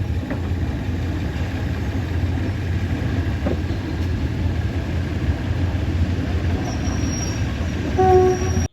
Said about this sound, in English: this is the last train of the day that comes through Kanchanaburi back into Bangkok